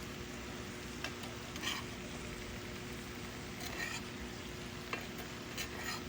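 Chopped tomatoes for ratatouille are mixed in a hot pan over a faint, steady sizzle, with a few soft clicks and scrapes of the spoon as they are stirred.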